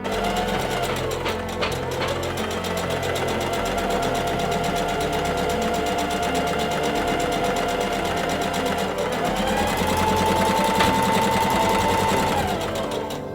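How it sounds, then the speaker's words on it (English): A sewing machine stitches along the edge of fabric for a thrifted top's neckline, running in a fast, steady close-up whir, speeding up slightly near the end before slowing to a stop. "Now I'm gonna sew along this edge right here."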